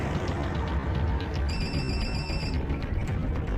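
A telephone rings in one short electronic burst, faint beneath steady broadband background noise.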